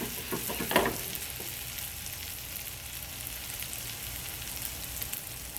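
Shallots sautéing in a pan make a soft, even sizzle that holds for several seconds, with a brief clatter of stirring near the start and no talking over it.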